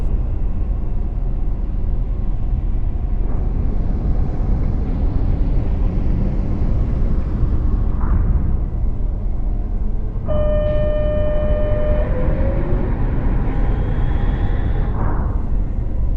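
A transit pod departs and accelerates in the video game Lone Echo 2: a loud, steady rumbling drone with rising synthetic tones midway that swell and then fade.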